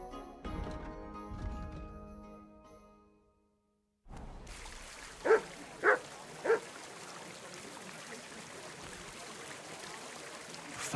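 A dog in the Kingdom Come: Deliverance 2 game barks three times in a quick, evenly spaced series, fairly close, over a steady background hiss, after a stretch of music and a brief silence.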